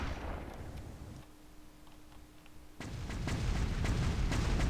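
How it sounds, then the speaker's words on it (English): Frag grenade blast in the game Starsiege: Tribes, a single burst of noisy explosion that swells after a brief quiet hum and rumbles on to the end, fairly faint overall. "let's say I do this with my frag grenade"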